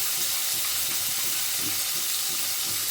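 Ground spices hitting hot oil in a frying pan, a steady loud sizzle with soft stirring scrapes underneath, close and continuous with no voices.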